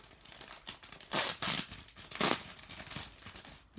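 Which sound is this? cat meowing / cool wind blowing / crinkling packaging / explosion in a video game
crinkling packaging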